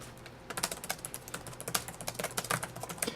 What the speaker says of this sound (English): let me show you how I type on a keyboard